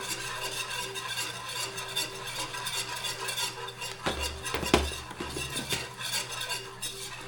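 All-purpose flour stirred in a pot over low heat for scratch mac and cheese, a utensil scraping and clinking against the metal with a soft sizzle beneath, close and steady, with a few louder knocks midway.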